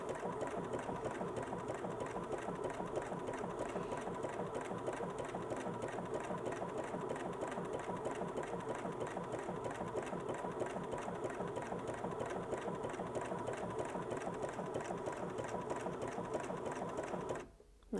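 Bernina S-325 sewing machine stitching at a steady, even speed, its rapid rhythmic needle chatter continuous and close for about seventeen seconds before stopping abruptly at the end.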